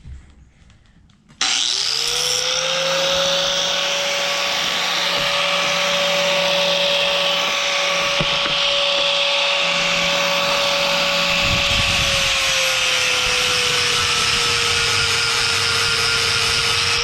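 An angle grinder fitted with a flap disc sands forged steel for a fire steel, starting after a brief quiet moment and then whining loudly and steadily with a high tonal hum, dipping slightly near the end.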